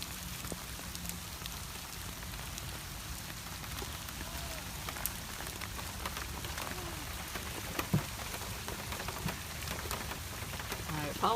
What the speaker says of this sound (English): I apologize for the rain on the lens